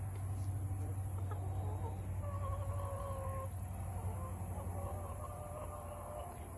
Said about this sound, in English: You see the chickens?